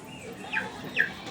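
A pet chicken gives two short, faint clucking calls about half a second apart over quiet background noise.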